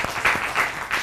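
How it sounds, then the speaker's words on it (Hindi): A brief burst of studio audience applause on a Pakistani morning television show, swelling in a few quick surges of massed clapping over about a second. "वाह क्या बात है, तालियां हो जाए।"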